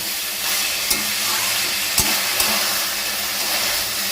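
Vegetarian banana flower dish cooking on a medium-low gas flame, a steady close sizzle and hiss with a few light knocks of a spoon against the pan, no talking.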